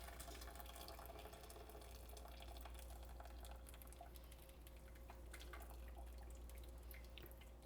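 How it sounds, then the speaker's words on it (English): Cooked pasta shells are drained into a kitchen sink, with water pouring and splashing in a steady, continuous rush over a low background hum, and no talking. "Now I'm going to take the shells over to the sink, drain them"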